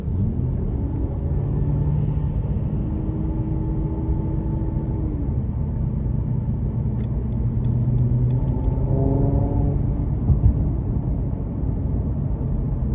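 A 2018 Mercedes-Benz C43 AMG sedan engine in Sport Plus mode hums steadily while driving, a low continuous rumble with smooth pitch shifts as it changes gears, with no talking.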